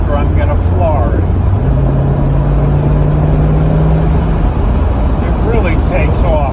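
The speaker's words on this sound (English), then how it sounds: "There's not a Porsche that sounds as good as an American V8 with nice dual exhaust." An American V8 car with dual exhaust accelerating at full throttle from overdrive, a deep continuous engine roar with a rising tone, heard from inside the car and steady throughout, with some talk mixed in.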